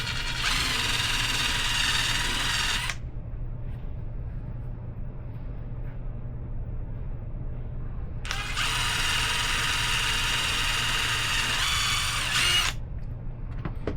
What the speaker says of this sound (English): And now I'm thinking about just drilling straight through here and just looping it around